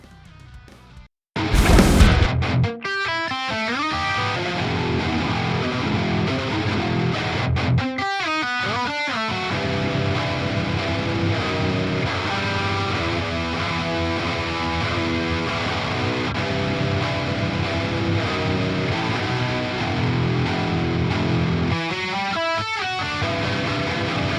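Skervesen Raptor FF8 Limited Edition electric guitars play alone through heavy distortion: a loud, dense, sustained riff with a few brief gaps and stops, no voices.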